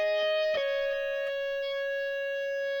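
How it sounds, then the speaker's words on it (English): A widened MIDI guitar layer with a distorted tone plays a few quick notes, then holds one long sustained pitch, fairly quiet and unaccompanied. "And I have this like MIDI guitar that I have wider on"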